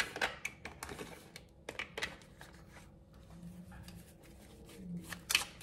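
Cartomancy cards are drawn and handled during a tarot-style reading, producing a string of crisp papery flicks, taps and snaps, close up and irregular, with quieter pauses between clusters of card handling.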